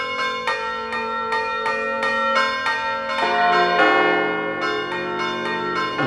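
A church bell swinging in a campanile, pushed by foot from above to make it fly, rings with loud, close, evenly spaced strikes whose long ringing overtones pile up into a dense, continuous wash.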